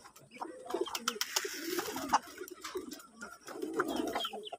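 Homing pigeons coo steadily just after a release, their low throaty calls layered and continuous with faint chirps and other birds scattered through the background.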